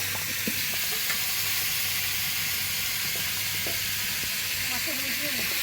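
Fish rubbed with turmeric and salt fries in hot oil in a home kitchen, giving a steady, even sizzle throughout. Faint clinks and soft background voices sit under the frying.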